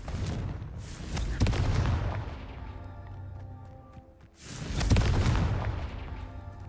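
In Hogwarts Legacy, a Confringo blasting spell sets off two loud booming explosions, each ringing out into a long decaying tail, with a quieter stretch between them.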